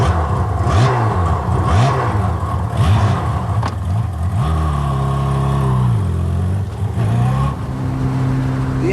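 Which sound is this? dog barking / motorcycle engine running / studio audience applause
motorcycle engine running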